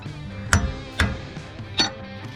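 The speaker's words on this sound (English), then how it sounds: "Let's hammer a 12 on it." Three sharp metallic hammer strikes driving a socket onto a bolt, evenly spaced about half a second apart, ringing briefly against a low background hum.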